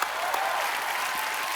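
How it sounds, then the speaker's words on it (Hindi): Studio audience on a comedy show applauds Helen and Asha Bhosle, a dense, steady burst of clapping from a large crowd heard alone for a short moment. "एक बार हेलन जी और आशा जी के लिए जोरदार तालियां हो जाएं।"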